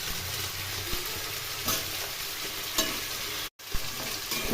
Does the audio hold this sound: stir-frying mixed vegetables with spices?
yes